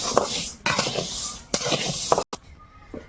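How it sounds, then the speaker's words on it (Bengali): Dry scraping and rustling in a hot pan, with bursts of stirring and a light sizzle, a short pause, then quieter stirring. "মুগ ডাল আছে তো ওই জন্য হালকা একটু ভেজে নিচ্ছি"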